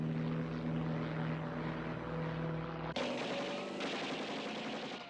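Gunmen fire at a low-flying airplane in a film action scene, a dense burst of gunfire layered over a steady droning engine, cutting abruptly into a brighter, louder wash of noise.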